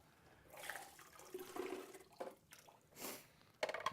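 Water pours from the drip tray of a Gaggia espresso machine into a sink, with soft splashing and trickling bursts and a few small clunks, fairly quiet and close.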